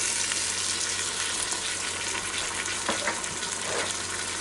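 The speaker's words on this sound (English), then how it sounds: "I'm going to go ahead and dump my Worcestershire sauce in here" Worcestershire sauce poured into a pot of beef and onions in a Ninja Foodi Deluxe, heard as a loud, steady sizzling and bubbling hiss that holds evenly throughout, close up with no talking.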